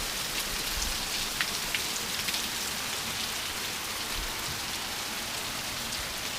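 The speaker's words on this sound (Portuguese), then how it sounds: "chuvinha boa" Light rain falls steadily in the dry Bahia backcountry, a continuous soft patter of drops on surfaces, fairly close and even, with no voices.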